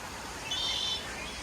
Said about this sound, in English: It is close to dinner time, so birds are chirping.